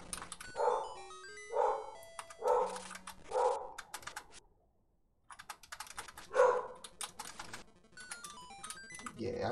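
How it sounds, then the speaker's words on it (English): A dog barks in short repeated bursts, with gaps and a brief pause, over beeping electronic tones and some clicking from The Legend of Zelda: Link's Awakening DX. "I apologise for the dog barking."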